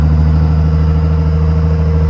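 A first-generation Cummins diesel truck engine with an exhaust stack rumbles loud and close, holding a steady, deep, throbbing idle with a strong low drone and no talking.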